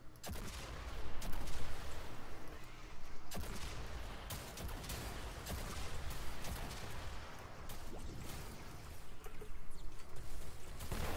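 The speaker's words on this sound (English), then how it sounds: "we're going to pull up 2 hover turrets" Hover turrets in Fortnite fire continuously, a dense rattle of rapid shots layered over rumbling game noise, with sharp individual cracks cutting through at intervals.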